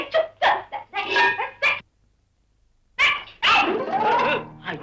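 A dog barks repeatedly in close, loud bursts with whimpering yips, then falls silent for about a second before barking again, in a Tamil comedy scene.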